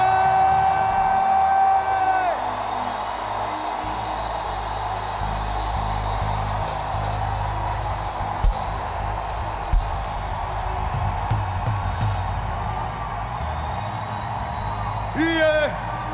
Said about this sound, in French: Poussons des cris de joie.